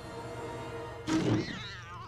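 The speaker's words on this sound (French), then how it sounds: "Un chat." A single short cat meow in the horror video game Little Hope, rising sharply out of a quiet ambient background and fading within half a second.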